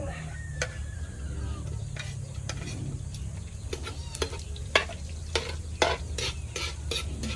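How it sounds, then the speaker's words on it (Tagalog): Garlic sizzles steadily in an oiled pan while a utensil scrapes and taps against the metal in irregular clicks as it is stirred, close and moderately loud. "Papula-pulahin na natin yung bawang."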